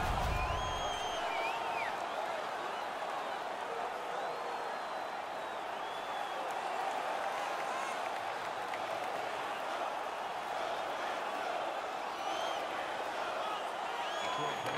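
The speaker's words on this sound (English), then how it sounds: "The home crowd is ecstatic. They're making all kinds of noise." Home arena crowd in the NHL 17 hockey video game during a Detroit vs Washington Stanley Cup playoff game, a steady, dense roar of cheering with scattered whistles and shouts sustained throughout at a moderate level.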